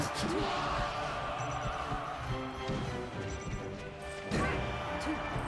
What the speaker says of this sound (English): Good up smash.